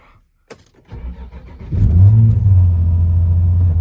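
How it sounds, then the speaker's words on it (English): A 2007 Nissan 350Z with the HR engine is keyed on with a click, cranks briefly, then fires into a loud, steady, deep rumbling idle close by, with no talking. "let's just put the keys in and we'll fire this beast up"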